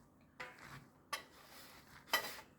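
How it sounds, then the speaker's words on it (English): Seasoned Korean radish side dish is mixed in a bowl, giving three faint, separate clinks and scrapes of a utensil against the bowl about a second apart over quiet background. "right now I'm just gonna mix up our radish"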